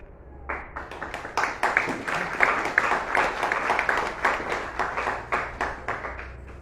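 After a conference talk, the audience applauds: a room of clapping that rises quickly and holds an even, rhythmic patter of distinct claps at moderate distance for several seconds.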